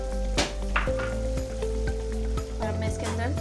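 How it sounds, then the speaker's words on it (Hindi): Tomatoes going into a pan of sizzling masala paste, a loud close crackle and hiss of frying with scattered stirring clinks and an underlying hum, continuous throughout. "सबसे पहले मैं डालूँगी इसके अंदर टमाटर"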